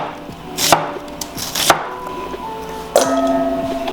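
A knife chops through an onion on a cutting board for Korean soybean paste stew, with three sharp, fairly loud strikes spread across the moment, each followed by a brief ringing tail.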